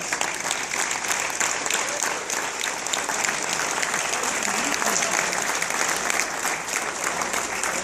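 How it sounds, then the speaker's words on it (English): Sustained audience applause at an awards ceremony, a dense, even wash of many hands clapping at moderate volume, with some crowd murmur underneath. "please give them a round of applause."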